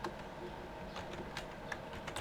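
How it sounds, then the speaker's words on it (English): Soft, irregular clicking of keys being typed on a computer keyboard while playing a supermarket simulator game, fairly faint and close, with scattered taps and no talking. "I cannot type on this keyboard."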